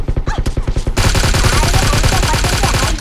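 Rapid automatic gunfire in a PUBG squad match, a sustained loud fusillade of close shots following a few quicker separate bursts, landing a headshot.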